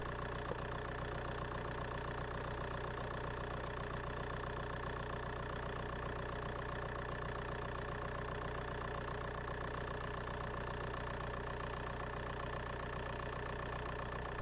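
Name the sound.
Skoda Fabia 1.9 PD diesel engine running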